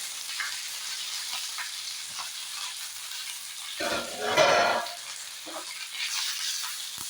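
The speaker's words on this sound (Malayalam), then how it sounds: "നമുക്കിനിയും കുറച്ച് വറ്റൽമുളകും കറിവേപ്പിലയും കൂടി ഇട്ട് കൊടുക്കാം." Dried red chillies and curry leaves dropped into hot oil after mustard seeds for a kootu curry tempering, a steady crackling sizzle that swells into a louder burst midway, with light stirring sounds.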